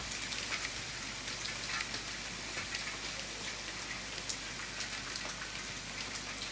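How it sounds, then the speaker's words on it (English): Steady rain patters indoors in the survival game The Forest, a continuous dense hiss of drops with a low constant hum beneath, even and unbroken throughout. "Hopefully the inside rain noise will stop because that's really weird."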